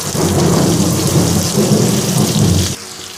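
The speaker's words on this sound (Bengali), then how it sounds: "পেঁয়াজগুলো আমার একটু গোল্ডেন ব্রাউন করে ভাজা হোক" Two medium onions fry in oil with cloves, cinnamon and cardamom for a Bengali prawn malai curry, giving a loud, steady, close sizzle that cuts off abruptly near the end.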